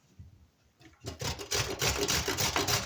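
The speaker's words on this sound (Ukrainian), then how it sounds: "а морпинку натру на велику терку" Carrot being shredded on the coarse side of a grater while cooking pea soup: after a quiet start, steady repeated rasping strokes ring out close and fairly loud.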